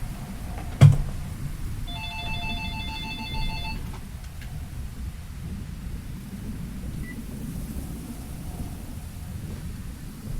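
A telephone rings, a short electronic tone repeating a few times at moderate volume, after a brief thump, over steady low background hum.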